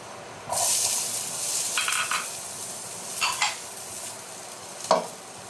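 Onion and garlic sauté in a pan for Ilocano igado, with a short burst of sizzle and a few separate scraping stirs between quieter moments, close and fairly faint.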